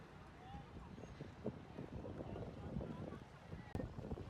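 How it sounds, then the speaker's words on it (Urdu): Wind gusts over the Chenab river, blowing steadily and roughly across the microphone with a continuous rumbling rush, one sharp bump near the end. "ہوا چل رہی ہے صحیح"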